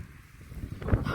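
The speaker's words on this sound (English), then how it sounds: "It's so windy. I can't tell you how windy it is." Strong, cold wind blows across an open sheep field during freezing, stormy weather, a rough broadband rumble with gusts rising louder toward the end, no voices.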